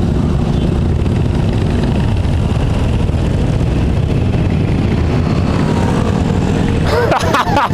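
A Harley-Davidson 1200 Sportster Custom motorcycle riding after a gear shift, its engine a loud steady droning rumble with heavy wind rush throughout, closing with a short burst of louder, rougher engine noise.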